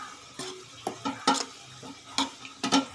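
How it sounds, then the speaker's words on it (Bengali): Spice paste with sugar and coriander powder being stirred and mixed into borli fish, heard as soft, sporadic clicks and wet scrapes in irregular bursts, close and quiet, with no voices. "এবার আমি এটাকে সুন্দর করে নাড়াচাড়া করে মেখে নেব।"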